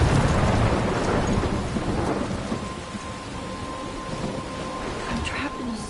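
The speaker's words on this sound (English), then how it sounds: "I'm trapped in a storm?" A thunderstorm in the Life is Strange video game: a heavy rumble of thunder rolls out at the start and fades under steady hissing rain on surfaces, with faint wind throughout.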